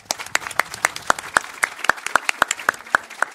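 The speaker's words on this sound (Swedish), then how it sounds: "Jag tycker vi ger dem en stor applåd." Sparse, evenly paced hand claps from an audience at a panel event, about a dozen distinct sharp slaps, sounding like a small group rather than a full crowd.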